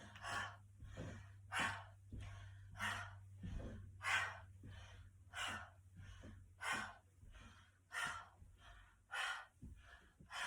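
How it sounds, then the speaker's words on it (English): Deep guided breathing during an exercise routine, with about a dozen rhythmic mouth exhalations at steady intervals, close and soft, over a low hum. "you're going to inhale and exhale out the mouth here"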